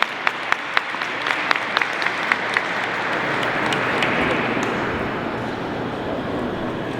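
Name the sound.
applause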